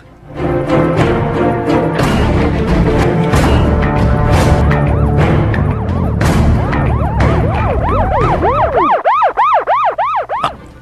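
A police patrol car siren wails loud and close, its rising and falling tone cycling steadily, then switching near the end to a rapid yelping pattern, with no voices over it.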